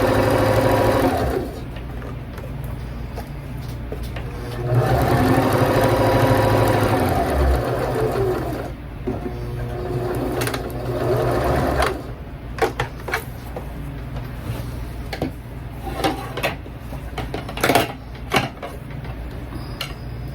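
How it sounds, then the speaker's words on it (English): A sewing machine runs along the seam of a sofa pillow cover, a steady close whir that stops and restarts, followed by scattered taps and handling knocks. "now I'm going to sew the other side up."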